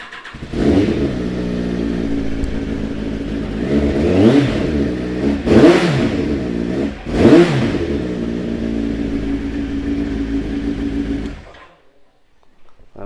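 A 2012 Yamaha XJR1300 motorcycle starts and idles close by, then is blipped with three sharp throttle revs that rise and fall before the engine settles and cuts off.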